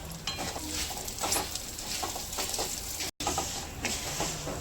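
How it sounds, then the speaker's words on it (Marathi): Wheat grits roast in hot ghee in a kadhai, giving a soft continuous sizzle broken by the repeated scrape and shuffle of stirring, fairly quiet and close with no talk. "तूप गरम झालेलं आहे त्यामध्ये हे गव्हाची कणी घातलेली आहे"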